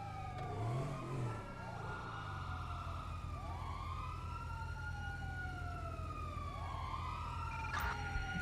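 A police car siren in the video game GTA 5 wails in long rising and falling sweeps over steady engine rumble, loud and continuous throughout with no talk.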